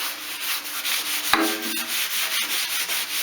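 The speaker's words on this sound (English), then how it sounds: "I'm just giving it a good degrease down with just some panel wipe." Steady rubbing and wiping across a vintage metal fuel can with panel wipe, a continuous hiss-like scrubbing with one sharp knock partway through.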